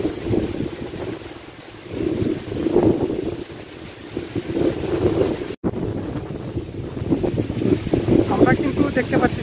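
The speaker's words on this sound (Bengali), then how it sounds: "চারদিকে বাতাস বইছে।" Strong pre-storm wind during a Kalboishakhi storm in Gaibandha roars in loud gusts across the microphone, with rumbling buffeting that swells and eases, briefly cutting out midway.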